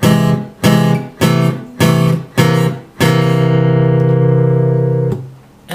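An acoustic guitar walks slowly up the third string, with five evenly spaced plucked notes that each fade quickly. Then one louder strummed chord rings out for about two seconds before fading, up close with no talking.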